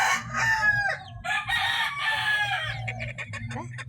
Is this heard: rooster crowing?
yes